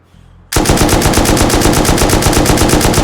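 A loud, close burst of rapid automatic fire from the highest-recoil gun in the video game Rust, starting abruptly after a quiet moment and continuing in an even, fast rhythm with no talk.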